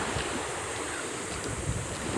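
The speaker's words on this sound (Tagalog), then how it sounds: "Masyadong alon." Sea waves at a beach during high tide, a steady broadband wash of surf with wind buffeting the microphone, continuous and fairly close, no talk.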